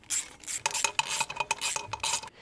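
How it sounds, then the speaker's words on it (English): Bolts are snugged up by hand on an aluminum cylinder head during an LS engine swap into a 1957 Chevy Bel Air, heard as quick metallic ratcheting clicks in short bursts, close and fairly quiet. "So I'll just snug these all up before I go ahead and torque them all down."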